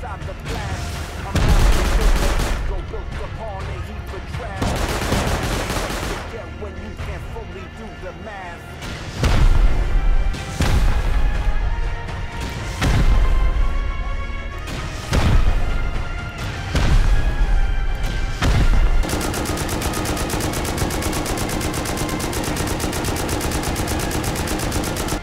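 Turret in Rust firing in long, loud automatic bursts of rapid gunshots separated by short pauses, ending in a sustained harsh roar, with a voice exclaiming briefly.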